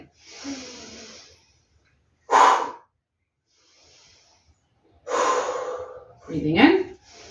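Forceful breathing during a stress-relief exercise: a soft inhale, a sharp forceful exhale, a long loud breath in, and a gasping, snorting burst out, all close with pauses between.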